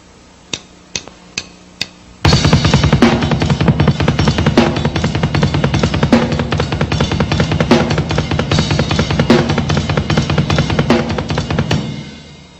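Fast drum kit riff from 1990 high-performance drumming: a few sparse count-in hits, then a loud, dense barrage of rapid kick, snare and cymbal strokes driving steadily for about ten seconds before stopping.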